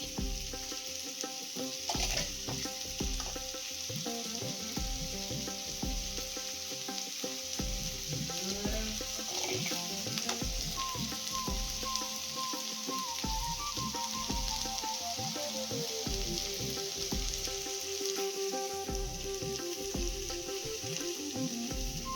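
Broad beans fry in a pan with a steady, close sizzle and crackle, and a spoon stirs and scrapes now and then. Nobody speaks over it.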